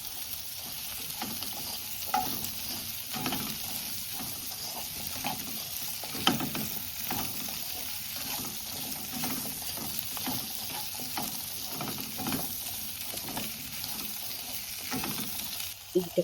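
Potatoes with pepper fry in a pan while being stirred, a continuous close sizzle broken by frequent scraping and stirring strokes, with no talking.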